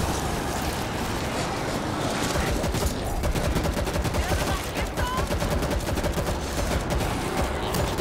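A mounted big gun in World War Z pounds out sustained rapid bursts, close and loud, with voices and other battle noise underneath throughout.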